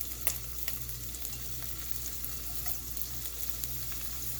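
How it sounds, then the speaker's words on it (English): Shrimp searing in a little oil in a pan for miso soup with noodles, a faint, even sizzle over a low hum with a few soft clicks, no talking. "we're going to put the shrimp in a little oil"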